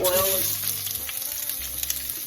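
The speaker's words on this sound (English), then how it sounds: "oil will get hot quick. Hear that sizzle?" Food sizzles and crackles steadily in hot oil, loud and close, with a faint voice in the background.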